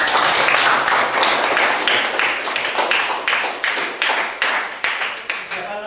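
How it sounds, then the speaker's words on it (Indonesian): A class in an Islamic religious education lesson claps in unison, producing a rhythmic series of sharp, evenly spaced group claps, roughly a dozen beats, loud and close with no talking. "Subhanallah, tepuk tangan."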